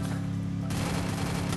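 Rapid gunfire in the battle royale game Free Fire comes as a dense, loud rattle of shots that begins partway through over a low engine-like hum and continues to the end.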